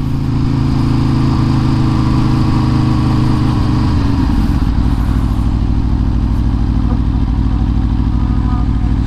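A sportbike motorcycle engine runs loud and close as the rider comes to a stop and shifts into first, its steady drone dropping in pitch midway before settling at a low rumble.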